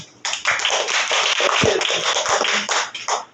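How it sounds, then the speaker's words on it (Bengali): Children in a classroom clap together in a quick, uneven burst of applause lasting a few seconds, close by, with no talking. "যাও ওর জন্য একটা হাততালি দাও"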